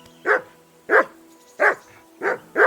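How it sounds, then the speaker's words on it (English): A dog barks in the video game Kingdom Come: Deliverance II, five sharp, evenly spaced barks about half a second apart, loud and close, with no talk over them. "That barking was a pain in the ass."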